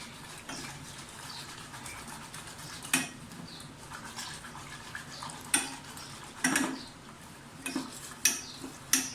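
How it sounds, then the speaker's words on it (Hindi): A spatula stirs a flour and milk mixture in a pan on the stove, giving a steady soft scraping broken by several sharper clinks against the pan, close and moderately quiet, with no talking. "स्पैचुला मुसलसल हिलाते जाएं या जो भी आप यूज़ कर रहे हैं।"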